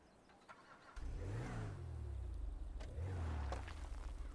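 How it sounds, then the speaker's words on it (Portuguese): A car in GTA 5 rolls over a rock and breaks it, its engine revving up loudly then easing and surging again, close and alone. "Mas que o carro passava em cima e quebrava a rocha"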